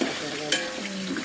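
Whole spices pop and sizzle in hot oil for biryani, with a steady frying hiss broken by a sharp crackle, heard up close.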